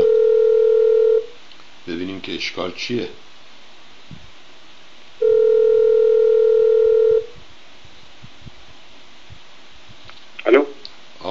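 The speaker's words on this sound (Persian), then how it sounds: "خب بذارید یه بار دیگه تماس بگیریم" A telephone dial tone sounds, is cut off by a quick burst of dialing tones, then returns for a second stretch, with a few bursts of speech and clicks around the tones on a Persian TV call-in program.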